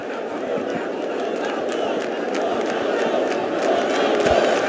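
A dense, roaring crowd of Sport supporters fills the Ilha do Retiro stadium during a Série A match, a steady wall of shouting and chanting with a few sharp thuds as sandals, cans and cups land near the changing-room entrance.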